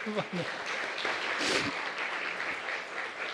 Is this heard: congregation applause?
yes